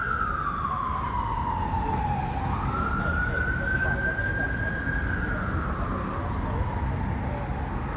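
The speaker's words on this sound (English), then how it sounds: "it's the ambulance coming for this guy." A wailing ambulance siren sweeps slowly up and down in pitch, fairly loud, over a constant rumble of Los Angeles traffic at night.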